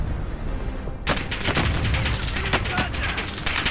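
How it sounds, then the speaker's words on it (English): Gunfire in Call of Duty: Modern Warfare erupts after a second of quieter ambience: loud, rapid bursts of automatic shots, close and sustained, with faint background sounds between volleys. "Who's that shooting?"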